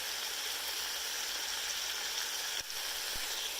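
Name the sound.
cabbage cooking in a pan with browned ingredients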